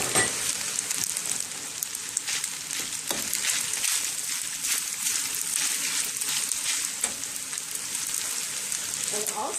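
Spinach leaves hitting a hot frying pan for a tomato spaghetti dish, giving a loud, steady, close sizzle and crackle that runs through the whole stretch with no talking.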